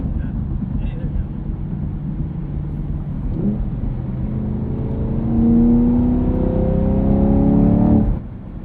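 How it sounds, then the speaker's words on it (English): Deep, steady V8 rumble from a 2023 Chevrolet Camaro SS 1LE with LT1 engine and six-speed manual while cruising, swelling louder near the end with rising engine tones under people talking inside the car. "There's something about the resonant frequency of a V8 when you're just It is. cruising around. The tone, the sound, the feel, the rumble."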